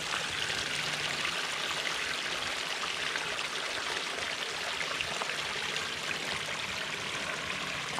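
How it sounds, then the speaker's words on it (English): Water runs steadily through a small garden brook fed by a pondless waterfall, a continuous close babbling and splashing rush that holds even for the whole stretch, with no talk. "So what we have here, this is our flowing brook."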